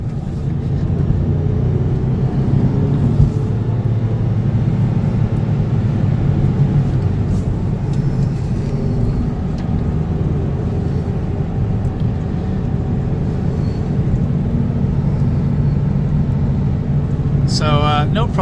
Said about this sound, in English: It's a great running little car.